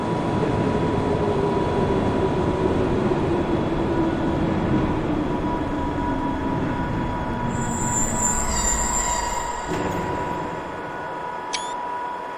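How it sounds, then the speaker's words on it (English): A Glasgow Subway train in Train Simulator Classic rolls into a station, a loud continuous rumble with squealing wheels and a falling tone as it slows, then high brake and hiss sounds near the end. "Another train coming in."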